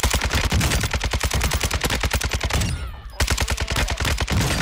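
Rapid automatic gunfire from the video game Call of Duty: Warzone 2, loud and continuous bursts with a brief pause near the middle before the firing resumes.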